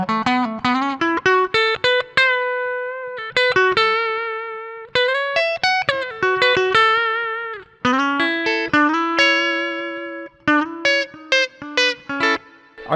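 A Glarry GTL semi-hollow electric guitar, played on both pickups with an out-of-phase tone, picks a run of single notes and short phrases with a thin, nasal edge, each note ringing briefly, with no talking.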